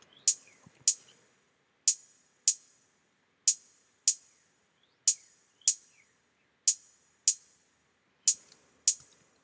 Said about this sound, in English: the first sample I have in this section